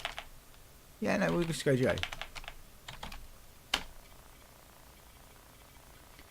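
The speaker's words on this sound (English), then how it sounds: "you can literally just type it in" Computer keyboard typing in a quiet room, a few short bursts of clicky keystrokes with one sharp key tap, alongside a brief spoken phrase.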